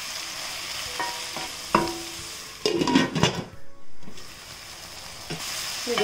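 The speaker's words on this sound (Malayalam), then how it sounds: "ഇടയ്ക്ക് ഇതുപോലെ അടപ്പൊന്ന് തുറന്നിട്ട് ഒന്ന് ഇളക്കി കൊടുക്കണേ." Tomatoes sautéing in a covered pan are stirred after the lid is lifted: a constant frying sizzle broken by several scraping, clattering stirs of a spoon against the pan, close and fairly loud.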